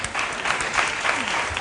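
An audience at a school quiz competition applauds after the round scores are read, a dense, steady burst of many hands clapping that lasts briefly at moderate volume.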